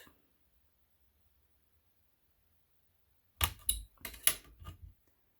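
A blade slicing through a polymer clay kaleidoscope cane, a short cluster of sharp taps and presses after a long silence, fairly close and alone.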